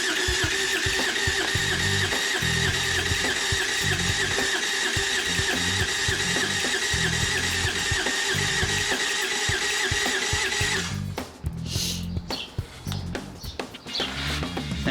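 A Tomos Nitro 50 scooter whose worn top end has low compression, its starter cranking the engine in a loud, steady, even whir for about eleven seconds before it stops and some loose clattering follows.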